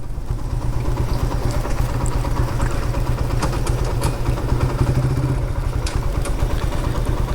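Several motorcycles idling outdoors at an old-age home grounds during an Eid gathering, a steady low engine rumble with light mechanical clatter, continuous and fairly close, no talking.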